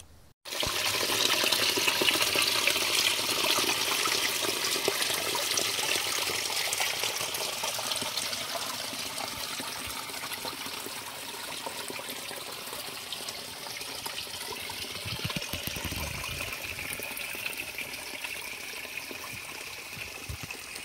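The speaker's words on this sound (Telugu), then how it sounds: "మీరు ఇప్పుడు చూస్తున్న జలపాతం అయితే చెంచులక్ష్మి జలపాతము" Water pours steadily over the Chenchulakshmi waterfall, a constant broadband rush close by that holds nearly unchanged for about twenty seconds with no voices.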